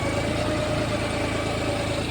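A tractor engine runs steadily at low revs, stuck in a muddy paddy field at rice harvest time, a constant rumbling drone close by with no speech over it.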